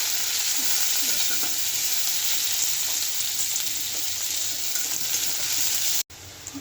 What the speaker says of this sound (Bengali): পেঁয়াজটা ভাজা হয়ে আসছে।